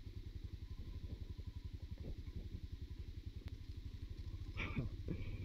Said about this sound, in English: I'll start the engine. I need it to push me over this bump.